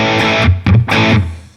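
An electric guitar run through the BIAS Desktop amp simulator on a crunchy mid-high fuzz setting with a woody old-Marshall character: two distorted chord strums ring out loud and close, each with a short choppy attack.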